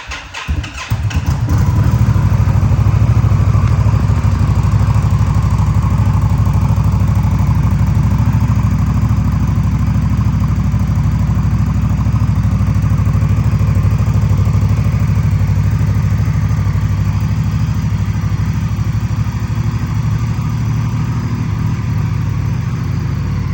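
A 2024 Indian Scout ABS motorcycle engine cranks and fires, then settles into a loud, steady, close idle with a low rumbling throb that holds unchanged for over twenty seconds, with no talking.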